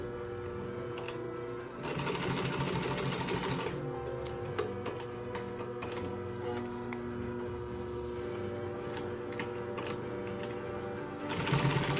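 Singer 112W139 double-needle walking-foot industrial sewing machine running steadily at close range, a continuous mechanical whir with rapid needle clatter that swells louder at about two seconds and again near the end.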